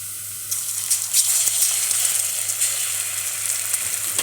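Tomato sauce hits onions frying in hot oil and sets off a loud, close sizzle that starts abruptly and holds steady as a dense hiss, with no talking.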